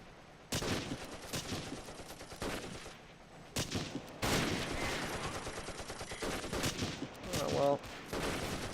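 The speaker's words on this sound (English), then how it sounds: "Seems like there still is a machine gun firing" Machine-gun fire in the war video game Close Combat: repeated bursts of rapid gunshots, some sharp and loud, others more distant and rolling, with a muffled boom near the end and no speech.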